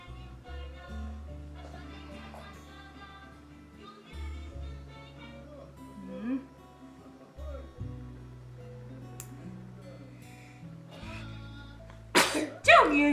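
A sudden sharp sneeze bursts out near the end, close and loud, after a stretch of quiet background music and soft voices.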